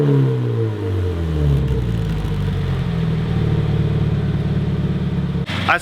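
A Subaru BRZ engine with a swapped overpipe idles through its exhaust in a deep, steady rumble. Its pitch settles downward at the start, then holds even before cutting off abruptly near the end.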